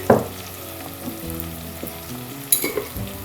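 Sweet potato and dried taki fish frying with spices, an oily sizzle broken by a loud spatter and stir at the start and another scraping clatter near the end.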